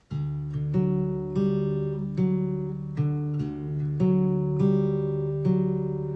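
Fingerpicked acoustic guitar plays a steady repeating pattern from a song, single notes rolling down and back up the strings over sustained chords, clear and close.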